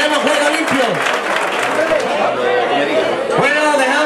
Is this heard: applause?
yes